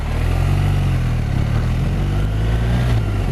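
A 2019 BMW R1250RS boxer-engine motorcycle drones steadily at a low, even note while riding, loud and close throughout with no speech.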